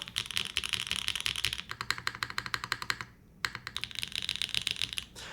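Typing on a custom top-mount mechanical keyboard with a thick class 60 top and no foam, rapid close clacky keystrokes in steady runs with a brief pause near the middle, no talking.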